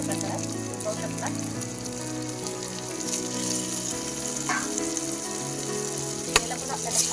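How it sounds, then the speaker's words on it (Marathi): Chicken pieces dropped into a pan of hot roasted spices for chicken biryani, a steady close sizzle with light clatter and a sharp knock near the end, under occasional talk. "तर आपण आता हे चिकन यामध्ये घालून घेऊया अशा प्रकारात."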